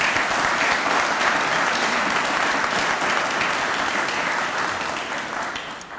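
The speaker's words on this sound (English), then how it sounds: "Please give Andrew a round of applause" An audience at an Arkansas Game and Fish Commission announcement gives a round of applause for Andrew, marking his seven years of service: a sustained, dense wash of many hands clapping that slowly tapers near the end.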